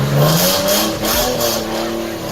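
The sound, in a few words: car engine revving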